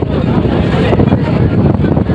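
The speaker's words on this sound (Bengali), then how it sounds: "বড় হাওয়া দিচ্ছে, বৃষ্টি পড়ছে" Strong wind and rain hit a boat crossing the Ganges, a loud, constant roar that buffets the microphone and drowns out everything else.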